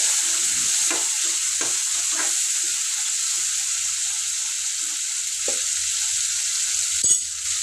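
Onions frying in a pan for a broad bean and drumstick masala curry give a soft steady sizzle, with a few scraping stirs early on and a sharp clatter near the end.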